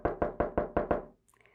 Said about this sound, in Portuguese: O lobo mau então bateu na porta.